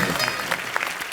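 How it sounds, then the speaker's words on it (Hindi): Brief burst of studio audience applause on a comedy talk show, steady dense clapping at moderate level for about a second. "तालियां जोरदार."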